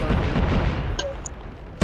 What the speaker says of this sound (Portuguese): Esse cara atirando ali.